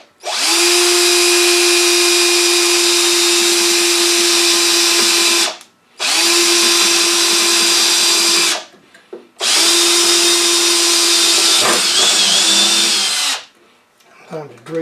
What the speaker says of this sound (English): Now I've got this to drill the rest of them.